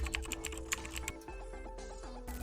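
Quick keystrokes on a computer keyboard as a command is typed in a Kali Linux terminal, a close, irregular run of light clicks with no voices.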